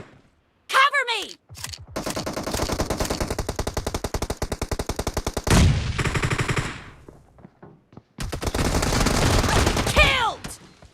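Video game PUBG team deathmatch gunfire from an M1014 shotgun, loud rapid bursts of repeated shots in several long volleys separated by short pauses.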